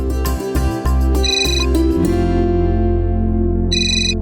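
A phone ringtone chimes out in a TV drama scene, a bright repeating electronic melody heard in short bursts over steady background music, with a final burst near the end.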